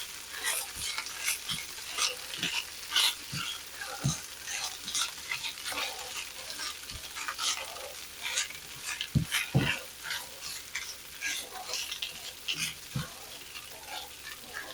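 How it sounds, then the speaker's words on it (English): Onion and potatoes are stirred around a pan of sizzling brown butter, with a steady close-up frying hiss broken by scattered scrapes and knocks of the utensil. "I'm going to just stir them onion potatoes around that brown butter"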